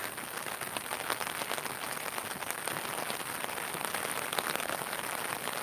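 Rain pours down beside a road, an even, dense hiss of countless drops striking the ground, steady and unbroken from start to end.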